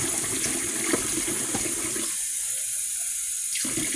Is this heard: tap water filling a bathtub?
yes